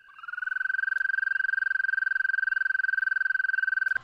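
Gray tree frog giving a single sustained trill call in late spring, a loud, even, rapidly pulsed ringing tone held for nearly four seconds close to the listener before stopping abruptly.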